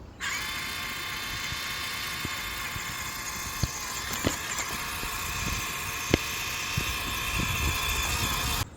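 An FMS Atlas 6x6 RC crawler runs at full wheel speed, its electric motor and gears giving a steady high-pitched whine throughout. A few faint clicks and knocks sit on top, and no one speaks.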